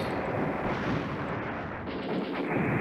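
Sustained artillery barrage in the wargame Command Ops 2 at Beda Fomm: a dense, continuous roar of rumbling booms and blasts, loud and steady throughout, with no voices.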